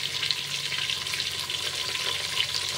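Drumstick pieces fry in hot oil for sambar, making a steady, even sizzle throughout with a bright hiss and no pauses, close by and with no talking.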